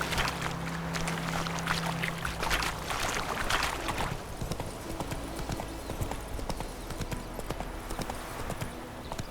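Horse hooves clip-clop steadily in Witcher 3 gameplay, a continuous fast trotting rhythm over a low background ambience, close and fairly loud throughout.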